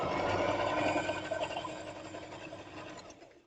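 A sewing machine stitches quilt seams close by with a steady, fast mechanical whir that holds for a few seconds and then winds down and fades toward the end.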